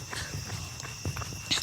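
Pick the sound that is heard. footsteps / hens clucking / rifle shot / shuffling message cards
footsteps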